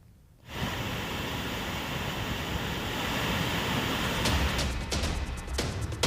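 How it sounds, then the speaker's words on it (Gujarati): The Sunsar waterfall, swollen by steady rain, plunges 200 feet down a hillside, making a dense, constant roaring rush of water that starts abruptly and holds steady and loud throughout. "જ્યાં ડુંગરમાંથી 200 ફૂટ ઉપરથી આ ધોધ પડતો હોય છે"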